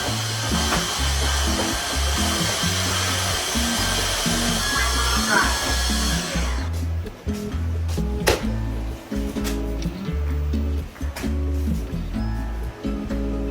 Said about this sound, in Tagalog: nag-vacuum na rin ako ng sahig